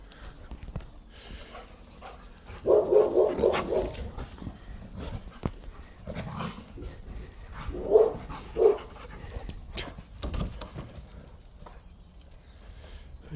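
Neighbour's dogs bark from behind a fence in a few short bursts, moderately close, with scuffling and thumping of dogs playing between the barks.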